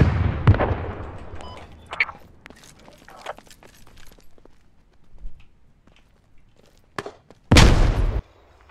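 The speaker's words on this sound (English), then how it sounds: "Those mortars were amazing." Mortar fire in the military shooter Squad: a heavy boom at the start, scattered thuds and small impacts through the middle, and a loud sustained blast near the end, with no talk.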